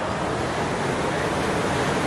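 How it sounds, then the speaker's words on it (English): A raging river rushes beside a tent at a lodge in South Africa, a steady, dense roar that sounds like surf and never lets up. "really feels like we're by the beach, but it's literally a raging river, which sounds amazing"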